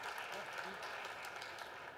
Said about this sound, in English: give everyone up here a big round of applause